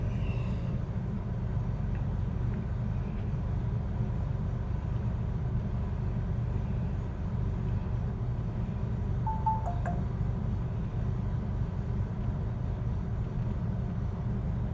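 A parked 1966 Chevy Corvair engine idles steadily with a low, even rumble throughout, no voices over it.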